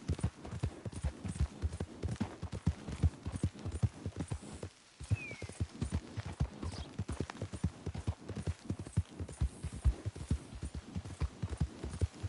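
Horse hooves clip-clop at a steady trotting rhythm in Red Dead Redemption 2, loud and close throughout, with a brief pause midway before the hoofbeats resume.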